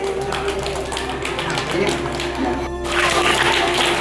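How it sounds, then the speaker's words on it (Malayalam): Applause from an audience at a school gathering: scattered clapping that rises into a fuller, louder burst of applause toward the end, over a faint steady hum. "കൈയടി."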